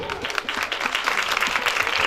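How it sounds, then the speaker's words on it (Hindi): A brief burst of audience clapping at an achievement award ceremony, many hands at a lively, even pace, fairly close and filling the short moment. "आपसे तालियों की दरख्वास्त है,"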